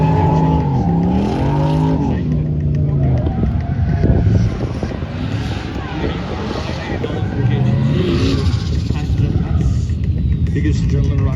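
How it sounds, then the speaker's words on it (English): Cars drifting at a European car show, tires squealing in long wavering screeches over loud revving engines, with a steady roar of crowd and motor noise throughout and voices mixed in. "We're now going to go down to this area and go watch some drifting."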